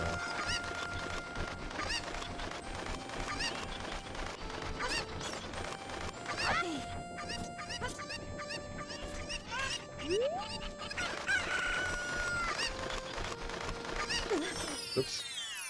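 Cuckoo chickens in Zelda: Ocarina of Time, played in the Ship of Harkinian randomizer, cluck and squawk repeatedly in short bursts amid layered game sound effects and background music, with no talking.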